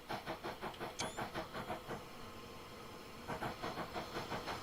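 A steam locomotive works hard in a train simulator, its exhaust chuffing in a fast, regular beat that pauses briefly for a hissing stretch, then resumes, with a short high whistle-like squeal early on.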